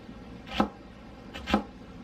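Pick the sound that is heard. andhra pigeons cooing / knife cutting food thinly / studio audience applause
knife cutting food thinly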